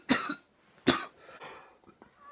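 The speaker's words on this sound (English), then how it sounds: "After my coughing fit" Coughing fit from a 26-year-old with cystic fibrosis: two harsh, close bursts of coughing, each with a quick follow-up hack, then softer throaty rasps and breaths trailing off.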